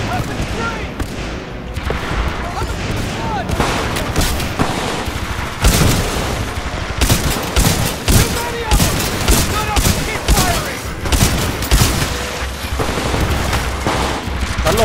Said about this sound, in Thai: เป็นปืนครับ